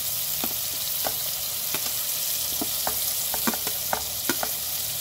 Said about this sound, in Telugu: టమాటాలు బాగా ఫ్రై కావాలి.